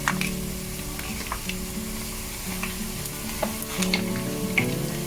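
Chopstick-sized chicken pieces salted and deep-frying in oil give a steady close bubbling sizzle with crackles and pops. A low background hum runs underneath, and no one speaks.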